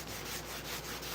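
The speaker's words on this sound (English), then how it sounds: "with an orbital sander and clean up the edge" An orbital sander smooths the edge of a handcrafted wooden skateboard deck, a close, steady raspy rubbing hiss with a light rhythmic pulse across a brief stretch.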